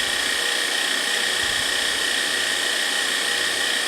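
Nuts being ground for a Slovenian kifle apricot and nut horn filling, a steady, loud, continuous mechanical whir of a grinder running without pause throughout.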